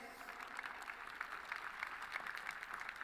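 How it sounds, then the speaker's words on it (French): Audience applauding award winners at a French building energy-savings competition ceremony, steady fairly quiet clapping from a room of people, heard from some distance and without pause. "On les applaudit très fort"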